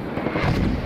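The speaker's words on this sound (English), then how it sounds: "here come the mortars." Mortar rounds land in the military video game Squad, a loud, low rumbling blast rolling through a single second of sound.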